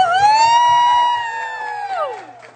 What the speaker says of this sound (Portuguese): Eu quero, antes, uma salva de palmas para minha avó